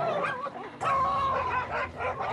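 Dogs bark and yelp excitedly as they attack a leopard, close and continuous, with whining, strained cries rather than clean single barks.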